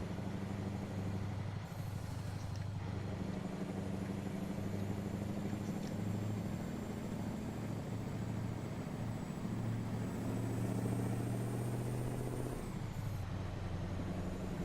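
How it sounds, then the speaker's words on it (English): An old Mack truck engine in American Truck Simulator drones steadily throughout, a loud, even low rumble with a faint high whine above it and no speech. "Love the sound of this engine, though."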